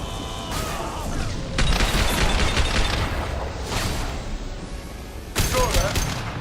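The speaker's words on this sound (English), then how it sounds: "Firing concussive shot!" A concussive shot in Mass Effect 2 lands amid a loud firefight, with repeated heavy blasts and gunfire across the clip, a sharp boom near the end, and voices speaking over the combat.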